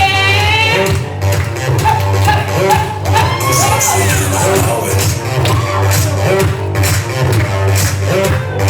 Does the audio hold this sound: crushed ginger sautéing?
no